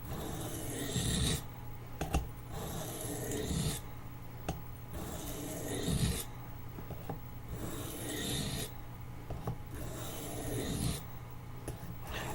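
Marbles D2 trapper knife drawn across a sharpening stone in repeated rasping strokes, a steady rhythm of rough scrapes about once a second, close and moderately quiet.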